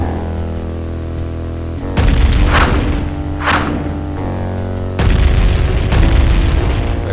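Town hall in Warcraft: Orcs and Humans being attacked and destroyed: steady loud rumbling crashes, with sudden heavier booms at about two seconds and again near five seconds, plus a couple of sharp hits in between.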